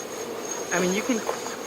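Honey bees hum steadily in an open hive during a deep inspection of the comb, a soft continuous buzz with a voice briefly heard over it.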